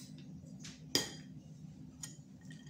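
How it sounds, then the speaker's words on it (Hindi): Chopped cabbage, bell pepper and carrot tipped into a large mixing bowl in a home kitchen, giving one sharp clink of dish and utensil, then a fainter knock and a light rustle. "एक हम बड़ा सा मिक्सिंग बाउल लेंगे और इसमें अपने सारी जो वेजिटेबल्स हैं वो ऐड करेंगे।"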